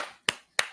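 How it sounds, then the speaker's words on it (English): Two sharp, close hand claps, evenly spaced, each ringing briefly, alone in a quiet room. "That deserves a round of applause"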